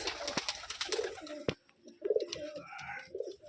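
Mukhi pigeons cooing among a flock at a pigeon keeper's loft in Rajshahi, soft repeated throaty coos at close range, with clattering and rustling in the background and no talk.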